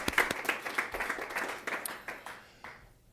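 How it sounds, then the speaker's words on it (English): A school board meeting audience gives a short round of applause. The clapping is dense at first, then thins and fades out within a few seconds. "So it's a round of applause for our Novato folks representing."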